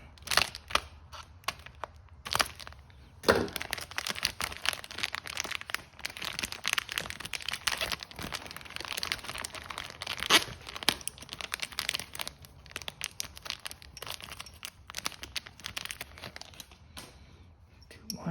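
Crinkling and tearing of a parts package for a Trail CT125 front rack being cut open, close-up and continuous with sharp crackling bursts and rustling throughout.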